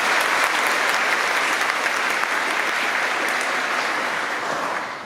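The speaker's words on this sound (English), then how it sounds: "deserves a round of applause" Sustained audience applause at a further education college certification ceremony, a dense steady wash of many hands clapping for about five seconds, fading slightly at the end.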